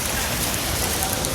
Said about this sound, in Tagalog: Umuulan yung disyerto.